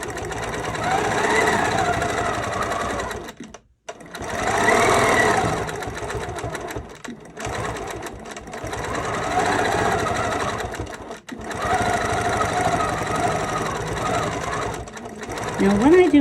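A sewing machine backtracks its stitches while quilting feathers on a curl. The motor hums loudly and steadily, with brief stops and restarts, and a person talks over it.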